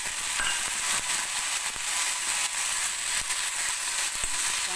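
Curry leaves roasting lightly in ghee in a pan, a constant bright sizzle with small crackles and occasional spatula taps throughout, close and fairly loud.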